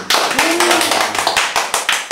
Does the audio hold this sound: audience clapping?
yes